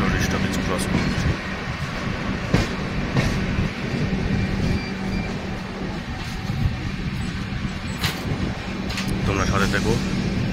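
Steady rumble and rhythmic wheel clatter inside a moving train passing Bhubaneswar in Odisha, with sharp rail knocks throughout and faint voices underneath.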